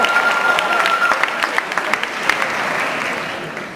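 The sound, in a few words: audience applause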